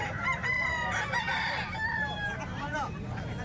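Roosters at a chicken seller's in Calumpit crow in a string of loud, drawn-out calls that overlap one another, with faint clucking and background noise underneath.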